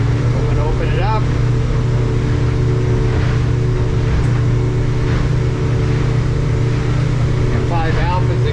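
Twin Yamaha F200 outboards on a Hewescraft 220 Ocean Pro accelerating away from a dock on rough water, a steady loud engine drone that builds under occasional wind and splashing, with someone talking at the start and end.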